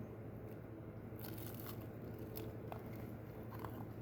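Crunchy beef tallow fried chicken bitten into and chewed, a few sharp crackling crunches standing out over a steady low background, fairly quiet and close with no voices.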